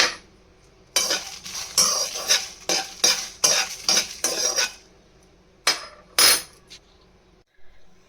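Green and red chillies frying in a pan with mustard seeds, heard as a series of loud, close metal spoon scrapes and clatters over a light sizzle, then a few final knocks before quiet.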